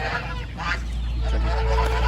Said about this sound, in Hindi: ये बतख हैं, ये काटेंगे तो नहीं?